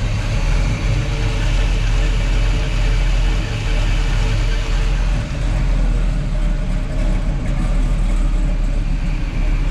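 A big-block 396 V8 engine in a 1969 Chevrolet Camaro SS idles loudly and steadily, a deep continuous rumble with no knocks or rattles and no breaks, heard up close.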